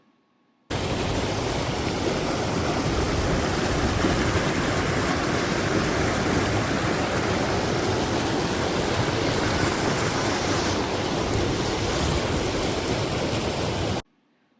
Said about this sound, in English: it was nice to see a small waterfall trickle